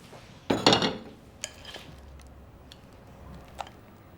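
Serving bowls are set down and handled in a home kitchen during preparation of a Greek yogurt dish. One clattering knock is followed by a few lighter clinks and taps, close and quiet, with no talk.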